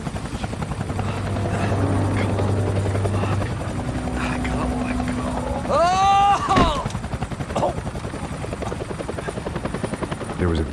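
A helicopter flies in Max Payne 3, a continuous thudding rotor drone with bursts of automatic gunfire and shouted voices layered over it.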